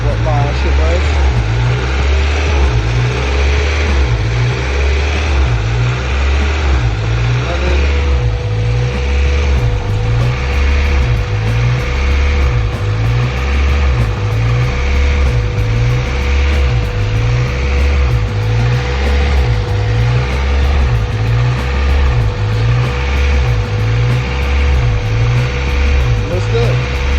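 Acura Integra engine running after a belt change, a steady close idle hum that rises and falls rhythmically as it revs, with a faint whine joining partway through.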